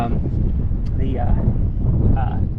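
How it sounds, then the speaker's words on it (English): Wind gusts and buffets the microphone at the bottom of the cab of a restored fire tower, a steady rushing roar. A person talks over it. "that wind is definitely blowing right here"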